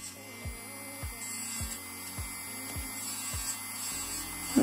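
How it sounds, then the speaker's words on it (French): Electric nail drill with a sanding bit working over fingernail cuticles: a steady high motor whine with a low hum, with regular soft pulses roughly every half second as the bit passes, close and moderately quiet, no talk. "Donc faites très attention à bien positionner votre embout de ponceuse."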